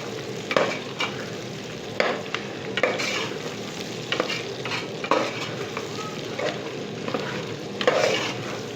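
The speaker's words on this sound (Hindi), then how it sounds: "इसको इसके साथ ही भूनें।" Masala fries together with bone-in chicken in a pan for kofta curry. A close, steady sizzle is punctuated by repeated spoon scrapes and stirs every second or so.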